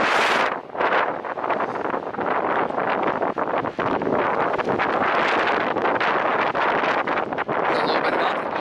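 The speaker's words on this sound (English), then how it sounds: "the wind is totally dead. And now it's back and picking up again." Wind gusts sweep through the Desolation Wilderness in the mountains, a loud, steady rushing roar buffeting close against the microphone with rustling pulses and no letup.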